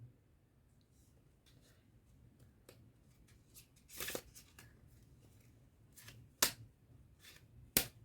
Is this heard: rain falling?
no